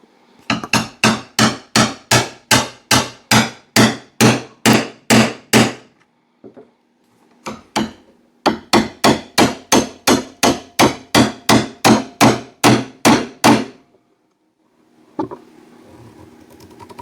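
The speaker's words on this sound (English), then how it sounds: "set our burrs, pin those over" A hammer strikes copper rivets to set burrs on a leather axe mask, with two long runs of fast, evenly spaced sharp taps separated by a pause. A few scattered knocks follow.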